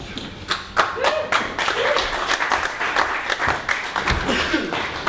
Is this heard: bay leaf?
no